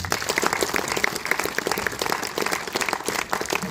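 An audience applauding coaches and a team captain after a film screening, a dense, even round of many hands clapping that carries on steadily throughout without voices.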